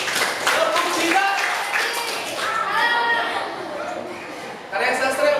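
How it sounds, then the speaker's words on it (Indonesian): A classroom of students claps along in the Tepuk Cina rhythmic clapping routine, brisk patterned claps mixed with children's voices and chatter. "Tepuk. Tepuk Cina."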